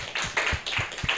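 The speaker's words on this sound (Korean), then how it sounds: "박수 한번 치세요." A church congregation claps along during a youth sermon: four or five sharp, evenly spaced claps with soft low thumps, moderately close, and no voices over them.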